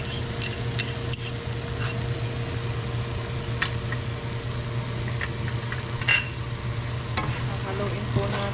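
Shrimp with oyster sauce stirred in a pan, a steady sizzle under a low mechanical hum, with scattered light scrapes and clinks of a utensil, close and continuous.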